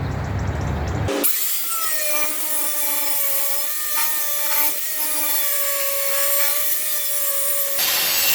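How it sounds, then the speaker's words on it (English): An angle grinder works steel on a dented riding lawnmower deck, a loud continuous high-pitched grinding whine with slight wavering as the disc is pressed against the metal, starting and stopping abruptly. "we can get in here and grind this smooth and clean it up a bit"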